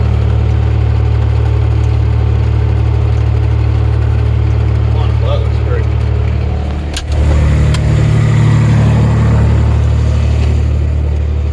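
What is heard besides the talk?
tractor PTO driving rebuilt Kuhn GA 6000 rotary rake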